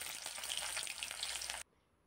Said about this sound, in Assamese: মিঠাতেলখিনি গৰম হোৱাত এতিয়া পিঁয়াজ দি দিছোঁ।